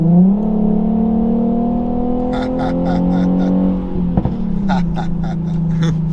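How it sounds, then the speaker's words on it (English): A tuned Infiniti Q50 in valet mode is floored at full throttle: the engine drone climbs steadily in pitch, then drops and settles lower, with voices talking over it inside the cabin. "This is full throttle, all the way to the floor."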